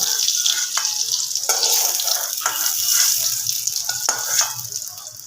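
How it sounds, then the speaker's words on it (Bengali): Potatoes and eggs fry in hot oil in a pan, making a steady, bright sizzle with occasional sharper crackles and stirring clatter, with no talking over it. "ভাজা হয়ে গেছে উল্টে পাল্টে ভালো করে ভেজে নিয়েছি"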